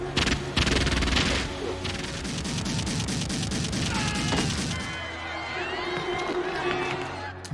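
Rapid bursts of gunfire and crashes from a shootout scene in the 1994 film The Crow ring out over loud music and commotion, the shooting thickest at first before thinning out.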